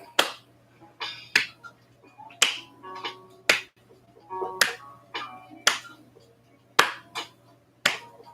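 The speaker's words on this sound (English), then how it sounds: "I'm just clapping for no reason" A person claps their hands about ten times at an uneven pace to cheer contestants on, each clap a sharp, close crack over a faint steady hum, with no talking.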